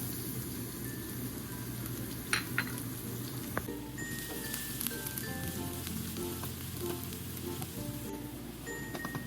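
Garlic sautéing in hot oil for beef steak, a low steady sizzle with occasional light clinks of utensil on pan, moderately close and without talking.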